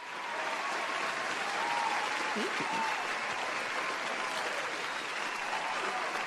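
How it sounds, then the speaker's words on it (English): Dense, steady applause fills the whole stretch, with a brief spoken thank-you over it. "Claps."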